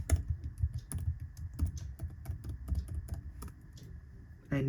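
Quick, uneven keystrokes tap away on a computer keyboard while a Wi-Fi password is entered, close and fairly quiet, forming a steady run of clicks for several seconds.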